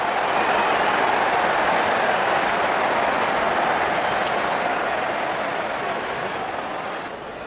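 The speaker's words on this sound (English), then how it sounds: "Openers walking in and the crowd cheering in anticipation." Cricket crowd at a T20 World Cup semi-final between India and England cheering as the openers walk out, a broad, steady roar of a large stadium audience that fades slightly at the end.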